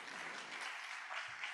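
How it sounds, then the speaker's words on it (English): An audience at a conference on regulatory foresight and innovation claps in steady, sustained applause to welcome speakers. The sound is faint and distant, a continuous patter with no break. "Please give them a round of applause to welcome them"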